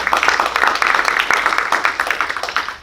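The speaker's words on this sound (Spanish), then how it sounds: "Dele palmas fuertes a nuestro Señor." Church congregation applauding loudly, a dense, close burst of rapid clapping sustained for a few seconds.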